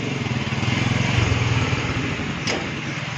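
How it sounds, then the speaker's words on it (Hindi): A new Honda CD70 motorcycle's small engine runs steadily close by, a dense buzzing idle chatter that holds at an even level for a few seconds. "लेके आए हैं नई CD70 बाइक"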